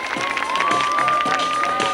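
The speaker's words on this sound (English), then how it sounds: "Let's have a big round of applause for Chad" Spectators at a regional water-ski tournament show applaud skier Chad after a front flip, a dense crowd clapping and cheering at fairly loud volume with a steady tone running through it.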